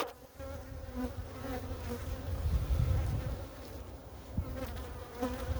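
Dense, steady buzzing of many honey bees close up at a hive, a continuous humming drone with slight swells in loudness throughout.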